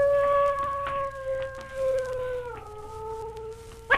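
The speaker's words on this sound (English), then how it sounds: "Probably a dog down the street howling." Dog howling down the street: a long, drawn-out, wolf-like wail that sags in pitch partway through, moderately loud and unaccompanied, ending with a brief sharper yelp.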